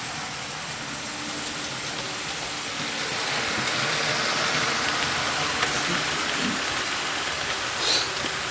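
A model train runs on its track, giving a steady close rumble and whir that swells slightly partway through and continues unbroken.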